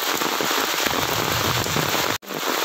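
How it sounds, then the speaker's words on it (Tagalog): Heavy rain pours steadily on a mountain road near a river and hanging bridge, a dense continuous hiss close and loud throughout, with one brief dropout near the end. "lakas ng ulan."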